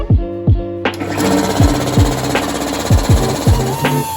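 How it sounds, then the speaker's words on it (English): A die grinder works old filler out of the fuel tank of a Kawasaki triple motorcycle, giving a close, loud, harsh grinding noise broken by repeated rhythmic thumps and surges as the tool bites and releases. "Now I've just got to try and die grind just that remainder of the old filler until it releases"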